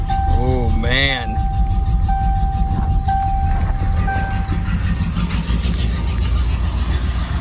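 An old Mercury V8 engine just revived after sitting, running rough with a steady low rumble throughout, close by, while someone talks briefly near the start.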